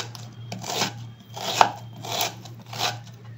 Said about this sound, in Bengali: এইটা আমি কুচি কুচি করে কেটে নেব।